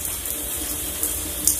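Shower water running in a steady hiss of spray, continuous and fairly close, with no voices over it.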